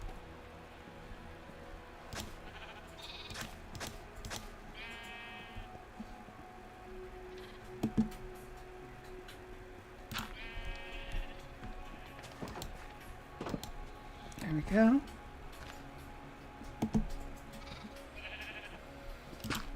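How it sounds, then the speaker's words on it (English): Lambs bleating in the Minecraft video game, short stacked bleats recurring several times at moderate distance over a steady ambient bed with soft clicks, plus a brief spoken voice. "You hear the babies? We have baby sheep. We have lambs."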